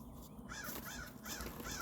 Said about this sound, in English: Hey, my crows.